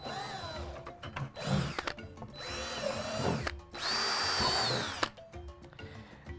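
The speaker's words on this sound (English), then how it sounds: "we're going to drill some holes into the bottom of every bucket" A power drill with a 1/4-inch bit bores holes through the bottoms of plastic buckets, whining up in several short runs separated by brief pauses, fairly quiet and steady.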